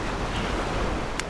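Ocean surf washes steadily onto Galveston beach under a constant breezy roar, with no voices, just a brief hiss of spray near the end.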